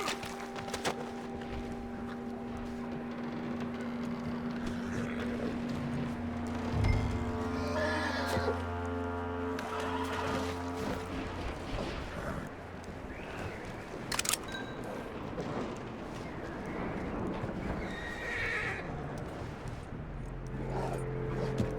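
A horse neighs and hooves clip-clop in the open-world western game Red Dead Redemption 2, amid soft ambient game sound at low volume, with a few louder knocks and thumps scattered through.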